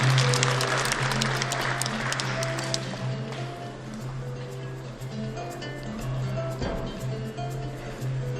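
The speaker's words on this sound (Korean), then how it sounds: "축하의 박수 부탁드립니다" Applause from the audience at a ceremony marking the 107th anniversary of the March 1st Movement in Gyeongsangbuk-do: dense clapping that is loudest at the start and gradually thins, over a steady background hum.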